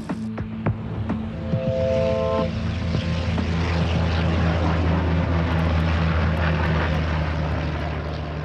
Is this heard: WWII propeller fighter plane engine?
yes